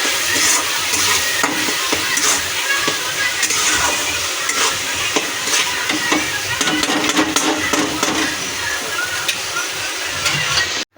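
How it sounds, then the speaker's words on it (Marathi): Rajma masala sizzles and fries in hot oil in a pan while being stirred, a continuous loud crackling hiss with scraping spoon strokes throughout, no talking. "याला चांगलं तळून घ्यायचं तेल सुटेपर्यंत"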